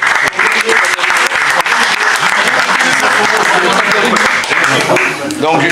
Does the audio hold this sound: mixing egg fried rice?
no